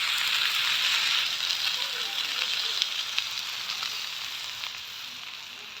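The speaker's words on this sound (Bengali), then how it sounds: "ভালো করে ভাজা করে নিবেন" Pulao rice frying with spices in a pan, a steady close sizzle with occasional stirring clicks, fading slightly toward the end.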